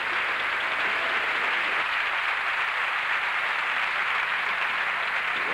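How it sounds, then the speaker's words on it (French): Steady, dense applause from a comedy festival audience fills the hall, even and sustained throughout with no voices over it. "Et tout le monde l'applaudit bien fort"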